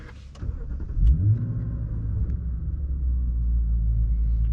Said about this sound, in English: we can hear that V8 roar when it comes to life